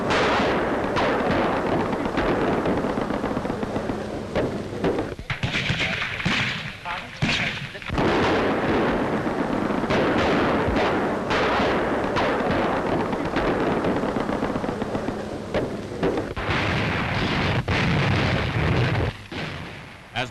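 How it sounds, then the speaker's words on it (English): Gunfire and artillery from archival war film of the Vaagso commando raid, with a German garrison firing back, make dense continuous loud bursts and booms mixed with crackling shots, all under a steady rumble. "The German garrison, suddenly roused to danger, opens fire desperately and blindly"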